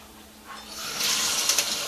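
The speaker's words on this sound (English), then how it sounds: "Gonna let that fill with water." Tap water rushes into a pot full of ice, building from a low trickle to a broad, steady hissing splash with a couple of small clinks, close by and without talk.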